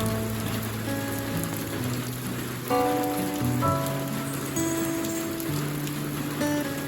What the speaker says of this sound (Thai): ฝนก็ตกพรึมพรำพรึมพรำนะครั